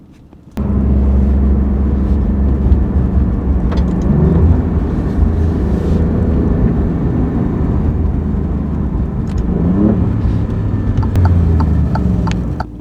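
An Alfa Romeo Giulia Quadrifoglio starts up and drives off, its engine droning loud and steady from close by for several seconds, with no talk.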